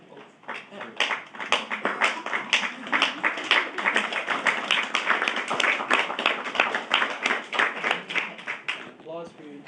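A small group claps steadily for several seconds at close range, a dense patter of hands with no voices over it.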